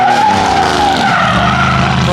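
Cars tandem drifting, one of them a BMW F80 M3, with loud tire squeal and skidding close by, a sustained screech over roaring engines that shifts in pitch as the cars slide past.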